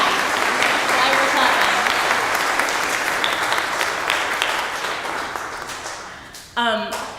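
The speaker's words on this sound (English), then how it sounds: "let's clap for Joanna" A church congregation claps together for someone at a Sunday service, a broad, dense wash of applause that slowly fades, with voices rising over it near the end.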